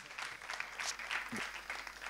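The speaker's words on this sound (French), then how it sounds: "je pense qu'on peut leur faire un tonnerre d'applaudissements pour la préparation de ce congrès" Audience applause at a pony federation congress in France: a steady, fairly distant patter of many hands clapping that lasts the whole short stretch, with no speech over it.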